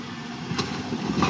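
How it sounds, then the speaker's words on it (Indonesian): An excavator engine runs at a riverside site being rebuilt after a flood, a steady low rumbling drone with slight surges, heard alone. "Ini udah beberapa hari mesin ekskavator yang bekerja."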